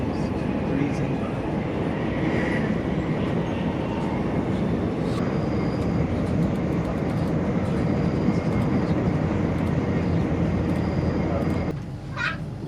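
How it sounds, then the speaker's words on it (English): A steady, loud rumble and rush fill a high-speed train cabin while it speeds past communities, with faint voices and a brief cat-like squeal mixed in before the noise drops near the end. "High-speed train. Which is breezing by communities."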